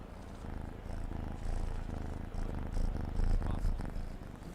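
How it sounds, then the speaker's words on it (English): A cat purrs loudly and continuously up close, a rough rhythmic rumble that swells and fades with each breath, with no talking over it. "she is purring like crazy"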